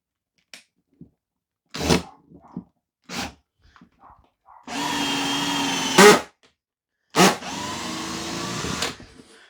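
An Evolution R13CMB 18-volt cordless combi drill whirs in several short bursts separated by silences, with two longer sustained runs near the end.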